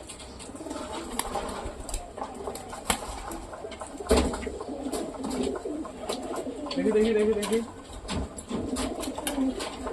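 Pigeons coo in low, throaty bursts close by, with wing flaps and someone speaking over them.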